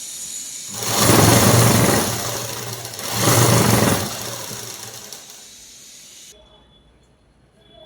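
A sewing machine stitches cloth in two bursts of rapid, whirring needle runs, each about a second long, separated by a short pause and trailing off into quiet.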